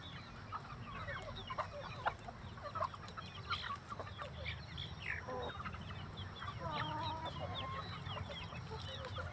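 A flock of kampung chickens being fed clucks steadily, with scattered soft calls and chatter over a low, continuous background hum.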